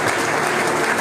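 A church congregation claps steadily in praise of Jesus, a dense, even burst of applause lasting about a second with no voices over it.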